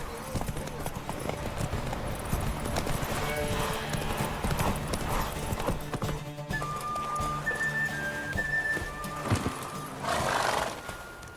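Horse hooves gallop in a steady clip-clop rhythm with occasional whinnies during a race in The Witcher 3, with game voices speaking over parts of it.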